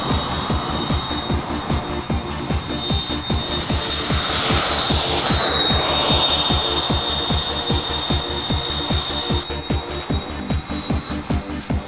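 A NitroPlanes ProJet F4 Phantom RC jet with retracts, heavy model, taking off: a loud, steady whining jet roar close by, with a high tone that sweeps and swells midway before settling, plus rapid rhythmic pulsing underneath.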